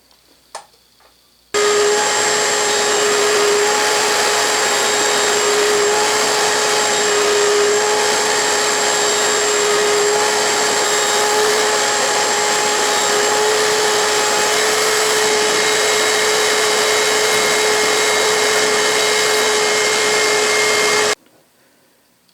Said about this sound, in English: This is a 1 5/8 communist Chinese Forstner bit, but it works quite well.